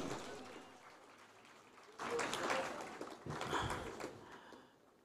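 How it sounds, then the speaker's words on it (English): Applause at a live county launch event for a mobile app, faint scattered clapping that swells into two louder bursts in the second half before fading. "Let us give them a round of applause."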